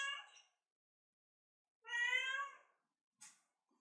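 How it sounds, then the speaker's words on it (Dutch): A restless cat meows twice, a short cry followed by a longer drawn-out one, then a brief chirp. Each call is clear and close against silence. "De kat is een beetje onrustig"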